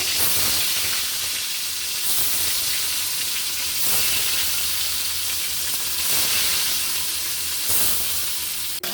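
Tilapia fish pieces frying in hot oil in a kadai, giving a loud, steady sizzle and hiss that runs throughout without pause, close up and with no talking.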